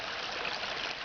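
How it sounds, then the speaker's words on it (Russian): Small stream fed by a spring, water babbling and trickling steadily at close range in a short unbroken stretch with no voices. "справа там видно, водичка журчит"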